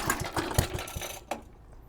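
A vintage 1960s Suffolk Colt 10A petrol lawnmower engine, started cold with the choke backed off slightly, sputters through a few uneven firing pulses close by, then cuts out and fades into quiet.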